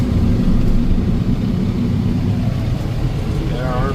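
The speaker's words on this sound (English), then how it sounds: "Get our PTO started." Kubota M7060 tractor engine running with the PTO engaged for brush hogging in a pasture, a steady loud low rumble that holds throughout, with a faint rising whine near the end.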